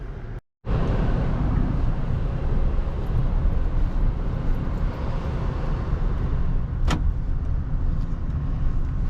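A 2015 Acura RDX with the Tech Package pulls away on a test drive, its engine and road noise a steady, close drone throughout, with a brief dropout near the start and a short tonal swish midway.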